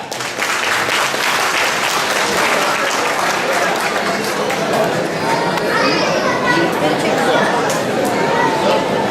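Audience applause at a foundation gathering with a prize draw, loud and steady for the whole stretch, dense clapping mixed with crowd chatter and children's voices.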